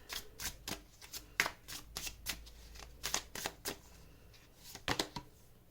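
Tarot cards are shuffled by hand in a run of crisp, rapid riffling bursts and soft slaps, repeating irregularly and heard close up with no talk.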